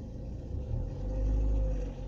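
A car engine held at 1500-1700 rpm during a driving lesson gives a low, steady rumble heard from inside the cabin, swelling slightly in the middle.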